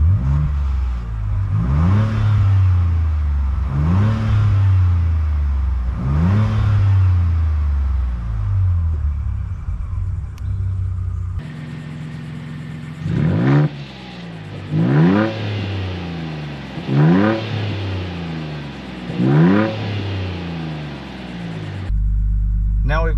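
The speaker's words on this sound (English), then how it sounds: "Stock exhaust system in sport mode." A Ford Bronco Raptor on its stock exhaust in sport mode revs repeatedly, with deep rising blips close by. Each rev falls back to a rumbling idle, and a voice talks briefly between them.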